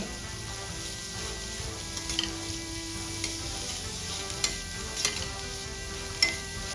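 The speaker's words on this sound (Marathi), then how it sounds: "आता ह्या सर्व भाज्या आपल्याला व्यवस्थित परतून घ्यायच्या आहे काही सेकंदासाठी" Carrot and capsicum sauté in a pan with a steady soft sizzle, while a utensil stirs and scrapes in light, irregular taps.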